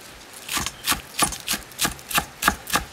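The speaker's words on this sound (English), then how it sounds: "We're just gonna chop our green onions." A knife chops green onions on a cutting board in about nine even, evenly spaced strokes, each a crisp close thud.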